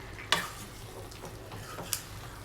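Mutton curry mixed with masala in a pan gives a low steady sizzle, broken twice by sharp clinks of a spoon against the metal, close by with no talking.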